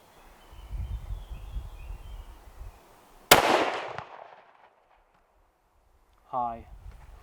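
A single sharp rifle shot cracks out at an outdoor shooting range, loud and close, its echo rolling away before the range falls quiet; a faint bird-like chirp follows.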